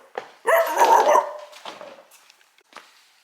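A human voice imitates a dog, giving a loud, drawn-out growling bark followed by a few shorter, fainter yips and grunts that trail off into near silence.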